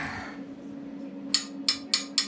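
Four sharp metallic hammer strikes on a motorcycle gas tank during fabrication ring out in a steady rhythm after a stretch of low humming background noise.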